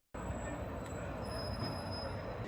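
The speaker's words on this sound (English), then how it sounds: "So welcome to York Station," A train at York railway station on the East Coast Main Line, a close, steady rumble of wheels and carriages with a few faint high squeals, continuous and without speech.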